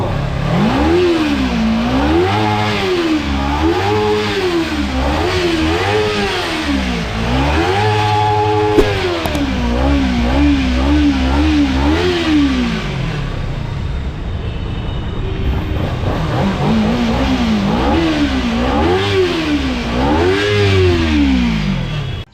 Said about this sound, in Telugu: దీని సౌండ్ ఒకసారి వినండి సూపర్ బైక్